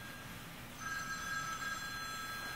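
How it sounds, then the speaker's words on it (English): Phone ringing in the background of a room, a faint steady electronic ring sitting under broadband hiss and room noise, continuous through the moment without speech. "My phone's ringing in the background."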